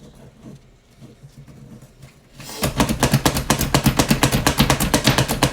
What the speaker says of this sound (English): I'm gonna take my food chopper and, pardon the noise